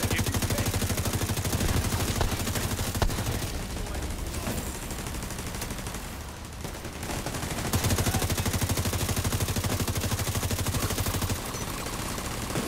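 Sustained automatic gunfire in the shooter game The Division 2, rapid rattling bursts layered over one another, loud and dense with brief lulls, continuing without talk.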